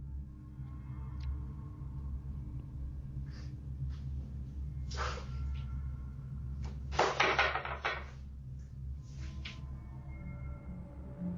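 Doors slowly creak open with strange, eerie noises: soft scrapes and breathy rustles build to a louder, rough grinding burst partway through, then fade into quieter intermittent scratches over a low, steady background hum.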